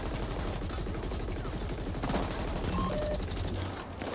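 Player's gun firing rapidly in the video game Ascent, a dense, continuous stream of loud, close automatic shots with mechanical clatter, running steadily throughout.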